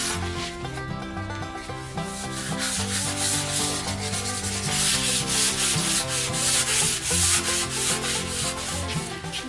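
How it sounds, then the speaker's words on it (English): Sanding dried wood filler on a wooden barn quilt panel, a steady scratchy rubbing that runs without a break under constant music for the whole stretch. "I am going to sand down the wood filler"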